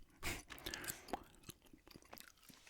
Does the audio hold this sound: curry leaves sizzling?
no